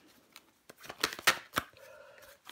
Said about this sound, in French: Je recouvre des cartes pour vous les béliers.